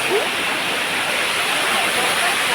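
Little Hawaii Falls at Po Lam, Hong Kong: a loud, steady roar of falling water fills the scene as an unbroken close-up hiss.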